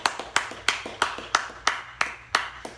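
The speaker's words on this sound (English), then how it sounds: "give yourselves a big round of applause right now." Rhythmic, evenly spaced claps at a live music show, about ten sharp beats in a steady tempo, fairly close and not a full crowd ovation.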